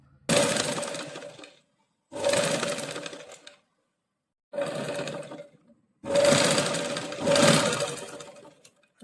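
Sewing machine stitching a saree blouse back neck, four loud close whirring runs of a few seconds each separated by short silences, with a steady motor hum throughout each burst.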